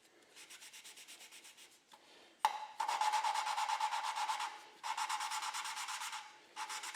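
A Model T Ford engine valve is lapped by hand with a suction cup tool, giving a steady gritty back-and-forth rubbing close by, in repeated rhythmic bursts separated by short pauses and a sharp click.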